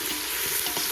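Chicken frying in a hot pan among friends cooking Telugu chicken bagara, a loud, steady sizzle with a faint stirring texture, close and continuous with no voices.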